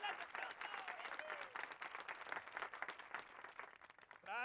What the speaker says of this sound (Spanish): Pido un aplauso para ella, pobrecita.